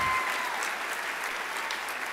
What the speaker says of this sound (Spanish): les vamos a solicitar a todos renovar el aplauso para el nuevo cuerpo de abanderados y sus escoltas